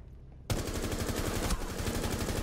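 Unsuppressed automatic rifle fire in Rainbow Six Siege, loud and close, a rapid sustained burst of shots starting abruptly after a half-second of quiet and running continuously to the end.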